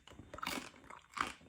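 Crispy pata, a deep-fried pork knuckle, is bitten into twice, each bite giving a loud, close, crackling crunch with a short pause between them.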